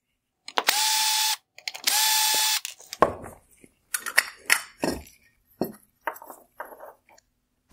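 A powered screwdriver backs out the small Phillips screws holding the cutoff shield on a 2016-2018 Hyundai Tucson xenon headlight projector: two short whirring bursts, then a scatter of light plastic clicks and taps close by.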